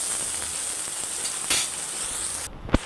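Onions fry in hot oil for a leafy green and vegetable curry, giving a constant close sizzle and bubbling hiss, with a single sharp utensil clack near the end.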